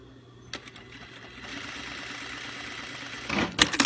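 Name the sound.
sewing machine stitching stretch binding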